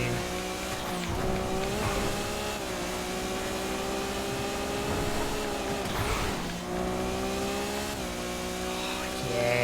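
A Hyperion supercar races through a lap in GTA FiveM, its engine holding a steady, loud harmonic drone that shifts pitch through gear changes, with a brief dip and tire squeal near the middle.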